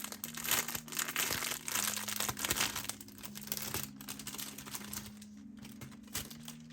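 Taped doll accessories being freed from an Integrity Toys doll box, with close, continuous crinkling and tearing of plastic and tape, a steady rustle that eases toward the end, no talking.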